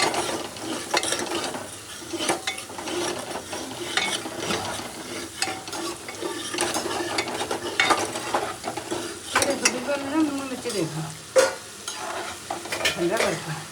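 Masala roasting in a pan at home, with steady sizzling and repeated scraping stirs of a spatula close by, running continuously without speech.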